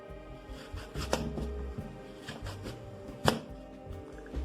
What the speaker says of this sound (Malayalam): കുരു വരാത്ത രീതിയിൽ നമ്മൾ കട്ട് ചെയ്തെടുക്കുക, ചെറിയ പീസുകളെ.